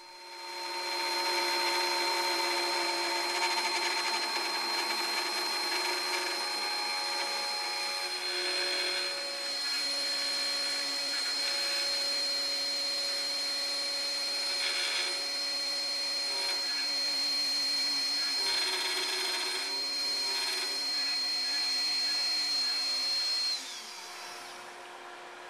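X-Carve CNC router cutting guitar humbucker pickup rings with the plunge depth set too deep, a loud steady whine with high tonal pitches running continuously, alone without talk, dropping off near the end.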